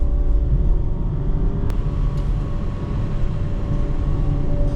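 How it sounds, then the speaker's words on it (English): BMW 318i Sport facelift with a B48 twin-scroll turbo engine, heard from inside during a quick downshift: a steady, loud low engine drone with a brief sharp blip, no talking. "Like if I downshift right now,"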